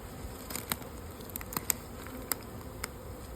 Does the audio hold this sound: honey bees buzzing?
yes